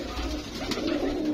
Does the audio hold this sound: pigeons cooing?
yes